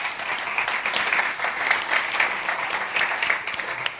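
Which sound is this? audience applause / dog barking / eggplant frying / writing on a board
audience applause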